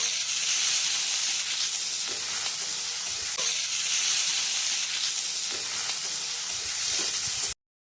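Chopped onion, green chilli and potato frying in a pan for a fish-head murighonto, a loud, continuous sizzle with faint scraping stirs, cutting off abruptly near the end.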